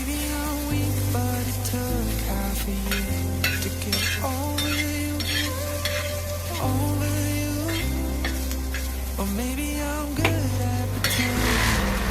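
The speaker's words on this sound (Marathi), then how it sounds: "मी तवा गरम केलेला आहे त्यावर कांदा परतून घेते" Steady crackling sizzle of onions sautéing on a hot griddle, with stirring, running continuously under tuneful background music.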